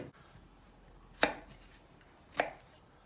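Two sharp knife chops through onions on a cutting board, spaced about a second apart, clear and close with quiet room noise between.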